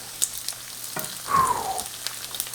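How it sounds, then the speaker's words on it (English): Bacon fries in a pan with a soft crackle, broken by a few clinks and a brief scraping swish as strips are flipped partway through. "Time for the flipping of the bacon again."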